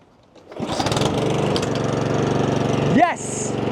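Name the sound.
Honda lawn mower engine starting and running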